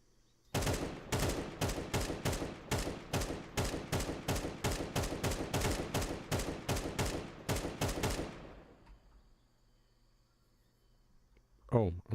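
Rapid, evenly spaced gunfire in a competitive shooter match, about twenty loud, sharp shots in a steady rhythm, then a fade into quiet and one last short burst.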